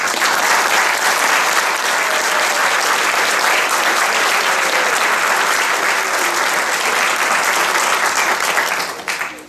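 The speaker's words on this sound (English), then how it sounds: "a big round of applause for all of that" A large crowd at a university mathematics graduation ceremony applauds loudly and steadily, the clapping sustained throughout before tapering off at the very end.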